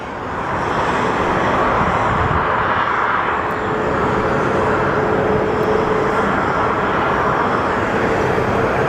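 An American Airlines jet bound for Fresno rumbles loud and near at Phoenix Sky Harbor, a sustained broad engine roar that rises quickly and holds evenly, with no talking over it.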